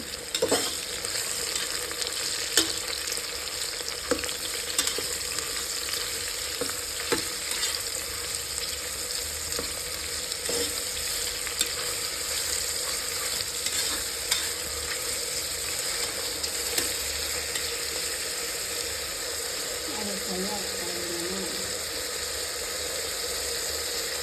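Mushrooms sizzle steadily in a pan for a spicy mushroom biryani while a utensil stirs them, giving repeated scraping clicks over a constant frying hiss, with no talking.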